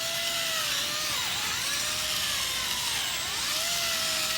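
A power sander works a foggy Honda Odyssey headlight lens at a finer grit, a steady whirring motor with a whine that dips and rises in pitch as pressure changes, close and continuous.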